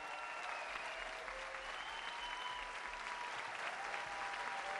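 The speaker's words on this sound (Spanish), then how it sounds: "Un aplauso fuerte, por favor." A crowd at the opening ceremony of a festival gives loud, sustained applause for a pianist, with continuous dense clapping and cheering at a slight distance.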